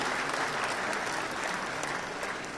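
An audience at the 68th National Film Awards ceremony applauds loudly and continuously, a dense sustained clapping that fills the hall for the whole moment.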